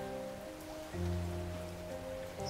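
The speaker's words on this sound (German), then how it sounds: "Und es regnet immer noch." Steady rain pattering on a surface inside a video game, set around a lakeside house, with a soft constant hiss and low tonal game music humming underneath throughout.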